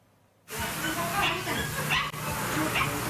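A dog chained outside in the rain whines and whimpers, several thin high cries rising over steady loud rain hiss.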